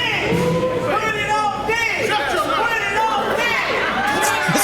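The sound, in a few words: crowd chanting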